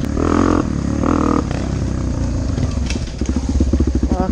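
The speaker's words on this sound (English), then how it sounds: "this is Nick's Yamaha, the TTR250" A Yamaha TTR250 dirt bike engine drones and revs on an enduro trail, a loud steady motor with two rising pulls, then loping, choppy lower firing as the bike slows over rough ground.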